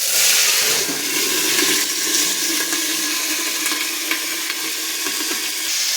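Potato pieces drop into hot oil already seasoned with black cumin seeds, giving a loud, even, continuous sizzle close by, with no talking.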